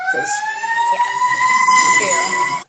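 Emergency vehicle siren wailing close by near a firehouse, steady rising and falling tones sustained loud for nearly three seconds before cutting off abruptly.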